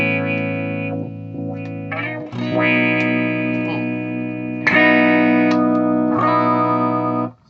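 Sustained electric guitar chords run through a distorted effects pedal, cutting in and out several times as the effect toggles on and off.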